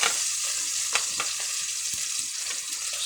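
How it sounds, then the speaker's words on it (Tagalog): Ginger and garlic sauté in hot cooking oil, a steady bright sizzle with a few faint stirring knocks, close and continuous. "mainit na yung mantika. Maggisa na tayo ng ating luya"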